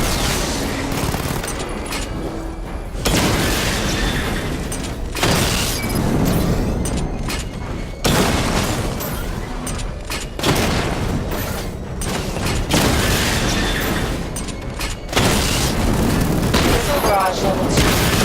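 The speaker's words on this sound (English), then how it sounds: "Charge up missile barrage to level 2 and destroy 4 active targets to complete diagnostic test." Batmobile missile barrages in Batman: Arkham Knight fire in repeated loud volleys of booms and rapid bursts, separated by brief lulls, with a voice talking at times over the din.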